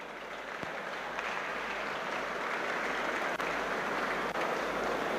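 Audience at a University of Port Harcourt convocation lecture bursts into sustained, dense applause that stays loud and steady throughout, with no talk over it.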